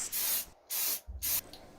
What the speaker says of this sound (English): I decided to go with a grass green spray paint I've had for a while.